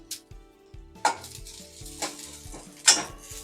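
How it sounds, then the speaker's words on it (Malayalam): Mustard seeds, onion and chili sizzling in hot oil as a tempering for erissery, a steady close fry with scattered pops and spoon-against-pan knocks from stirring. "കടുകിട്ടു ഉള്ളിയിട്ടു മുളകിട്ടു എല്ലാം കൂടി മൂക്കും"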